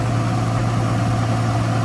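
A Nissan R34 Skyline sedan with a stock engine, aftermarket muffler and factory downpipe idles steadily at close range, a smooth low rumble with no other sounds.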